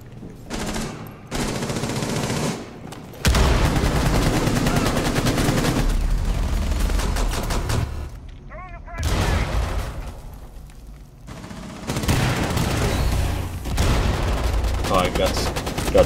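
Rapid gunfire in Rainbow Six Siege during a Tower team deathmatch bomb match, dense bursts and automatic fire in loud stretches broken by brief lulls, with players talking over it.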